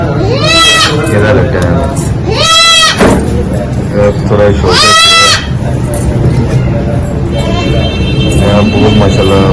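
A large goat with newborn kids bleats in three loud, drawn-out calls, close by, while people talk throughout.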